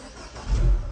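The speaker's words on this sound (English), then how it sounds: "I'll start the engine up" A 2014 Mini One Convertible automatic fires up, a low engine rumble swelling midway through and settling into a steady close idle, with no talking.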